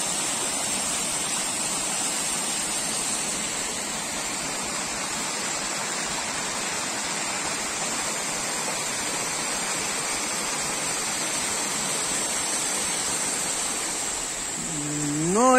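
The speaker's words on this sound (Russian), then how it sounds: "Водопад двухкаскадный" Steady, broadband rush of water falling down a two-tier waterfall in a narrow gorge near Yalta in January, continuous and fairly close, with no voices; a brief rising tonal sound appears at the very end.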